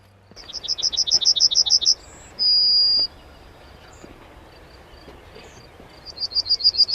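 An outdoor yellow songbird sings in bursts of rapid, high repeated chirps, then a sustained whistle-like note after a pause, followed by another chirping run, clear and fairly close with no talking.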